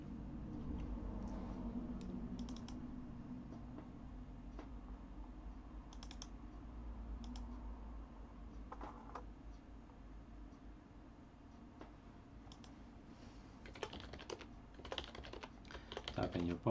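A password being typed on a computer keyboard while installing Arch Linux with GNOME: soft, quiet key taps scattered over steady background noise, growing into a quicker, louder flurry of keystrokes near the end.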